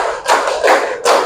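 Children clap their hands together in a counted rhythm in a second-grade classroom, three sharp unison claps spaced evenly and loud, with no talking.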